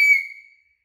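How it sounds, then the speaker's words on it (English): A single short, bright blast on a whistle found among survival gear in a storage unit, sharp at the start and fading out within about half a second. "There's a whistle."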